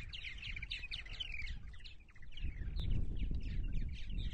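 Purple martins calling at their colony on eastern Long Island in the morning, a busy overlapping chorus of gurgling chirps and warbles over low rumbling wind or traffic.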